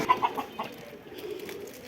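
A pair of Pakistani Aliola Teddy pigeons calls softly close by, a few short coos and clucks at the start and then quieter murmuring.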